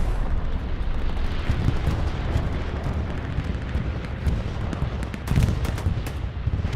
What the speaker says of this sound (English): That's a Taco's bombing run in response